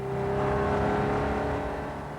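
A petrol car engine accelerates in a steady, smooth hum that swells slightly and then eases, with no voices.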